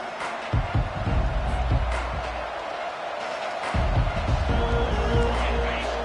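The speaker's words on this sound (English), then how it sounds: "this home crowd is fired up and ready to make a difference today" Home stadium crowd roaring at a College Football 25 playoff game, a loud, dense wash of cheering that swells and holds throughout with a brief dip midway.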